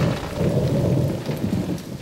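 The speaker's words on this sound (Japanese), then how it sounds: "雨か。" Steady heavy rain pours with a deep rumble of thunder rolling underneath, loud and close throughout with no voices.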